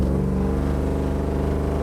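Exhaust of a 500+ horsepower Chevy OBS hot rod truck, a loud, steady low rumble idling close by, with dense resonant tone and no talking.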